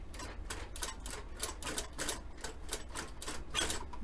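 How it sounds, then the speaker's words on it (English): A Yamata cylinder-arm sewing machine, set up for binding purse edges in a shoe repair shop, runs in a steady rapid chatter of evenly spaced stitching clicks, close and moderately quiet. "This machine is a cylinder arm machine. This is a Yamata."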